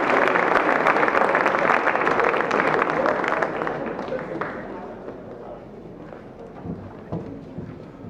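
A school sports and academic awards crowd claps loudly and steadily, then the applause fades to scattered clapping and murmur.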